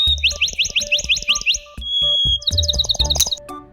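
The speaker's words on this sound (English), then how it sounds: "The big bird can sing." A bird sings in quick repeated high chirping trills, bright and close, broken by a brief pause before another fast run of notes, with light clicks and knocks underneath.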